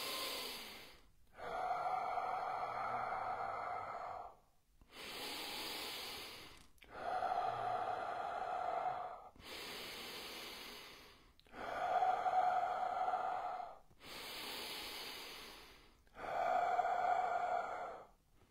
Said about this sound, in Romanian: Inspir, expir.